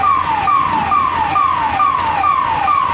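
Wailing fire engine siren arriving at a bank fire in Ujjain, loud and close, its falling tone repeating about every half second with no voices over it.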